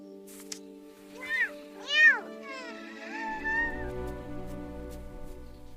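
A small kitten gives a few high, rising meows close by after being rescued from a tree, then a low hum and soft noise take over.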